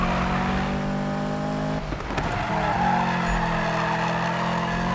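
A car engine holding a steady high drone in Need for Speed, with tyres squealing in a drift as the revs dip briefly and then climb back to a sustained roar.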